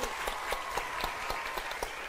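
A studio audience on a Vietnamese television dating show claps together in quick, regular beats for about two seconds, filling the room with moderately loud applause.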